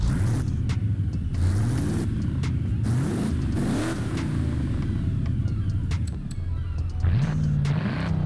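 Racing 7.2 litre V8 engine in a tuned widebody Mercedes-Benz X-Class in Forza Horizon 5, loud and close, with repeated rising revs and gear shifts over a steady rumbling drone.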